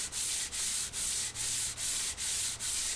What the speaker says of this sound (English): we're just going to see where it sands, where the sandpaper's touching, to see what the high spots are